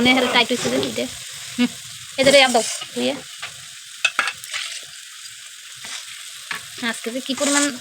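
Mutton pieces frying and being stirred in a pot for a curry, a steady sizzle with spoon scrapes and clatters, broken by a voice speaking over it at intervals.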